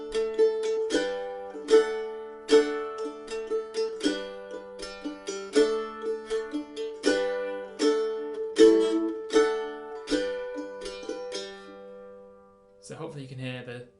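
A mandolin strums the chords of the A part of the Irish jig "The Connaughtman's Rambles" in a steady, lively rhythm, each strum ringing bright and close, with a brief different sound at the end.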